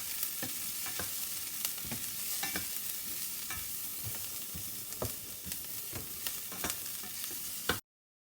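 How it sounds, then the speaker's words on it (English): Onions and dried chillies frying with mustard seeds in a Sri Lankan–style pan, a dense, steady sizzle peppered with crisp pops and crackles, close and continuous before cutting off abruptly. "When the mustard seed starts to crackle, add the onions and dried chillies. Continue frying until the onions turn translucent and slightly brown."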